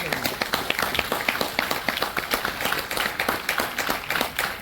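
Audience clapping at a network marketing seminar, a lively run of distinct hand claps in a quick, fairly regular rhythm, close and moderately loud, sustained throughout.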